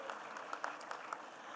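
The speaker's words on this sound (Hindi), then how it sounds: "एक बार आप स्वयं के लिए ताली बजाएं, जोरदार करतल ध्वनि से।" An audience at a conference applauds, a soft, fairly distant patter of clapping hands that stays steady and light throughout.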